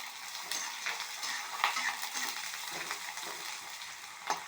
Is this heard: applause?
no